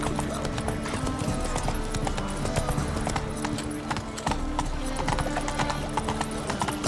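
Roach the horse trotting in The Witcher 3, a steady clip-clop of hooves on hard ground, continuous and fairly close, with faint background game ambience.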